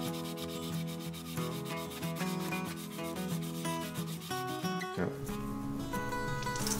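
Sandpaper rubs over a CNC-cut wooden axe handle in repeated scratchy strokes, partly masked by louder background music.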